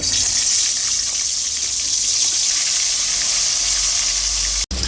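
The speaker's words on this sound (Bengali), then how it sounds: "তেল গরম হয়ে গেছে এবার মাছগুলি ছেড়ে দেবো" Salted, turmeric-rubbed tilapia fish sizzling loudly in hot oil for a Bengali fish curry, a steady dense hiss that holds throughout and cuts off abruptly near the end.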